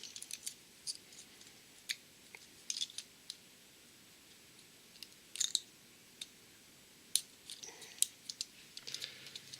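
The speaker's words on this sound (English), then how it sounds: "it's pretty tough plastic. I have to just keep going until it's finally trimmed off." Sharp cutter trimming tough plastic, heard as a scattered series of crisp snips and clicks, close and fairly quiet, with no voices.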